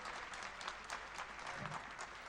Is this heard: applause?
yes